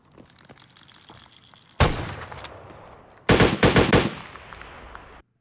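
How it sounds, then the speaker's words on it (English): M4 rifle fire in Escape from Tarkov: a single sharp crack, then a tight burst of several loud shots in quick succession over a quiet, hissing background. "Ooh, where are those shots? Oh, M4."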